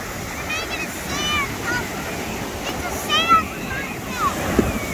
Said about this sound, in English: Those waves are still big.